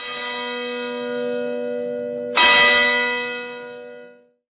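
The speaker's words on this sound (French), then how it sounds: "Depuis autant de son cloche là," A church bell rings twice, each strike clear and loud with a long humming tone that decays slowly, the second stroke louder before fading into silence.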